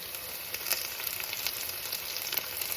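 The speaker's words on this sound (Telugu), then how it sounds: "ఇప్పుడు ఇందులో 1 స్పూను అల్లం వెల్లుల్లి పేస్ట్ వేసుకున్నాము" Ginger garlic paste sizzles in oil in a pan, a steady close crackling hiss with small popping bursts throughout and no voices.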